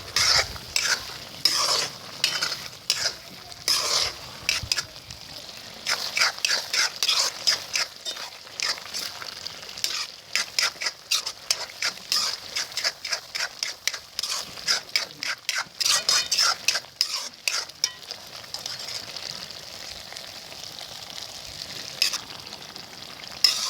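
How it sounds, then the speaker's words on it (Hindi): Mutton for Punjabi masala dum gosht fries in ghee while a spoon scrapes and stirs it steadily, a busy crackling sizzle broken by repeated sharp stirring strokes, up close with no voices. "अच्छी तरह इसको भून लेंगे।"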